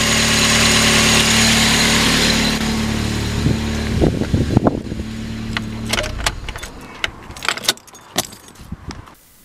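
Car engine idles steadily as the throttle is pulled back and the revs settle, with keys jangling and clattering close by as the engine note fades.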